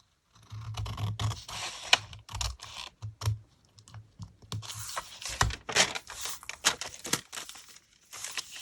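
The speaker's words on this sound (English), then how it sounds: "now I can cut this here. And that there." Scissors cutting through a paper envelope being upcycled with fabric, a close series of irregular snips, scratchy rustles and crinkles with short pauses between cuts, no talk.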